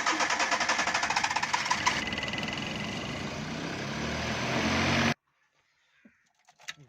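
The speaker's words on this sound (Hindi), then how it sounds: "अब गाड़ी को हम सल्फ़ लगाएंगे।" Suzuki Bolan van with a new battery cranks on its self starter with a fast rhythmic churn, then settles into a steady, loud running roar that cuts off abruptly, followed by faint clicks.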